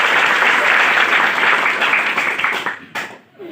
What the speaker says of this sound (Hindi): एक बार जोरदार ताली बजाकर अगर आप बैठना चाहते हैं तो